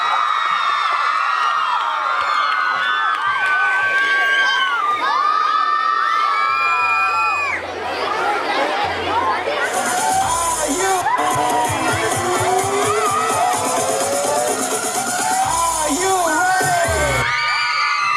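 Loud, continuous cheering and shouting from a school annual day audience, with many children's voices whooping and yelling over applause, joined later by a bright sustained tone and thumps throughout.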